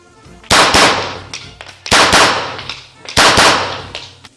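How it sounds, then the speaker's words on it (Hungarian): Three sharp, loud blank shots from a FÉG P9R pistol converted into a gas alarm pistol, spaced about 1.3 seconds apart, each a close crack with a reverberant tail fading before the next. "ez egy P9R-ből átalakított gázriasztó pisztoly"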